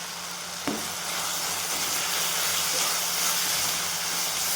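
Green bean vegetable curry sautéing in a pan gives a steady, loud hiss and sizzle, with a single sharp tap near the start.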